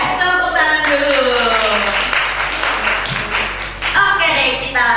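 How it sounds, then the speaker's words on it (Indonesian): Audience clapping at a talent show, a burst of hand claps running beneath a presenter's voice, with a livelier round of clapping near the end. "Tepuk tangan dulu."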